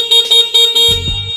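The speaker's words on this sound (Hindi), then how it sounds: "इसका हॉर्न देखिए" Horn of a Battre One budget electric scooter: a few short, bright electronic beeps in quick succession, close and loud, followed by a brief lower buzzing tone.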